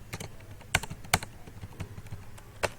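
Someone types PHP code on a computer keyboard, irregular key clicks with a few sharper, louder strikes spread over a few seconds, close to the microphone, with no talking.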